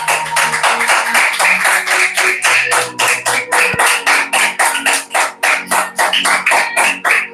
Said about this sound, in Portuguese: Bate a salva de palmas, amada igreja,